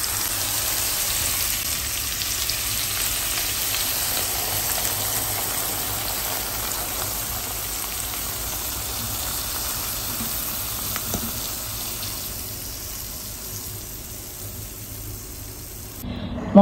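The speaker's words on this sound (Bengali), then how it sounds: "মশলা ঢেলে দিলাম মাছের উপরে" Fried rohu fish sizzling in hot oil in a pan as masala is poured over it, giving a steady, dense crackle throughout that fades slightly before ending abruptly.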